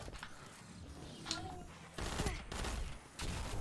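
Gunfire in Destiny 2 from a pulse rifle, a short burst of shots with sharp onsets and reports at a moderate level, set against the game's background sound.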